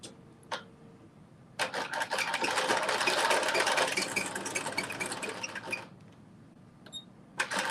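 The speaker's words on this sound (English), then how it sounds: "now I'm about to do a quick little zigzag stitch on here" A sewing machine runs a zigzag stitch across a maxi dress in one steady, close burst of rapid mechanical chatter lasting about four seconds, framed by quiet clicks and handling before and after.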